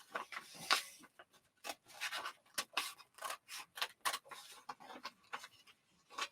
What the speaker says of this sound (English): So I want to cut up through the pattern. Oops, get my scissors in.